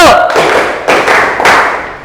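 A classroom of pupils clapping together on a teacher's call, loud, close bursts of unison claps ringing through the room right after a short spoken cue.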